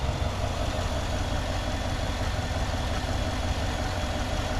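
A 2019 GMC Sierra 1500 Denali 4x4 pickup with a 5.3-liter V8 idles smoothly, a steady low, even engine rumble held close and unbroken throughout with no talk.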